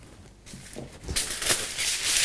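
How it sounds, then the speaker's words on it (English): Just-boiled water is poured from a kettle into a bread loaf tin for steaming seitan, a rising steady splashing hiss that grows louder halfway through and continues to the end. "So I'm pouring the water about halfway up the bread tin."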